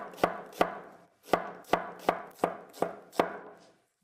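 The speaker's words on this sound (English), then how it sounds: "Just cut them in half, lay them on the cut side, and then slice them into strips about this thick" Knife thinly slicing halved onions into strips on a cutting board, eight crisp, evenly paced chops close up with no talking.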